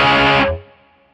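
An electric guitar chord rings through an Amplitube 5 Mark III amp simulation with a pop punk tone, loud and distorted, then cut off sharply into a fading tail.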